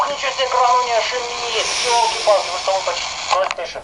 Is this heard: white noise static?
yes